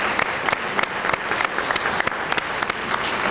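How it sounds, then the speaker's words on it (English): An audience at an annual co-op banquet claps steadily, a dense, even patter of many hands from start to finish, with no voices on top. "Let's all of us give each other a nice round of applause."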